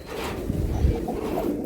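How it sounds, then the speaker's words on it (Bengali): Giribaj pigeons coo in a low, steady murmur, close and fairly loud, with no one speaking over the short burst. "এই কবুতরগুলা ভাই অনেক সুন্দর"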